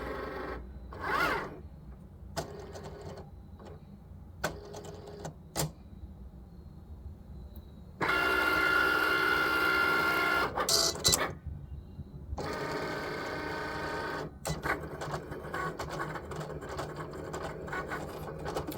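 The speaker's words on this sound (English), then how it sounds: "Okay, so now it is cutting" A Cricut machine cutting printed stickers runs in bursts, its motor whirring and buzzing in stretches of several seconds with short pauses and clicks between passes, close by with no talking.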